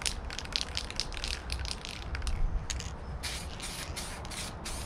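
Aerosol can spraying vinyl paint onto car door cards for a Rover P4, a steady hissing spray in several bursts with short pauses between them, close up with no talking.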